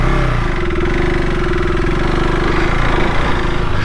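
KTM 390 Adventure R single-cylinder motorcycle engine pulling away at low revs, a loud, rough, chugging thump with a steady drone, lugging slightly as it sets off, close and without talk.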